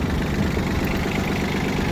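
A Yanmar AF17 mini tractor's three-cylinder diesel engine idles steadily, a close, even low rumble with a constant rhythmic throb and no voices.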